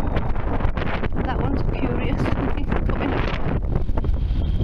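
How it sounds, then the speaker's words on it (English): Strong wind gusting across an open field and buffeting the microphone, making a loud, rough rumble that rises and falls, with someone speaking briefly over it. "Sorry about the wind. It's very breezy."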